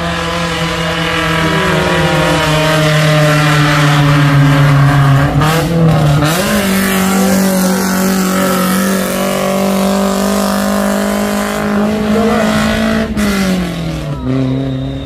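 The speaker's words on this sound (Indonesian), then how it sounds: "Langsung ngegas mobil pick up tadi," A Daihatsu Grand Max pickup truck revs hard and climbs a steep hill, its engine droning loud and steady throughout with pitch rising and falling as it labours up the slope.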